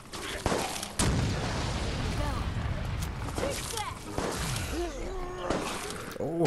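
Grenades thrown in the video game Resident Evil Resistance, several sharp booming blasts scattered through a busy, loud battle mix with other gunfire-like impacts and game sounds.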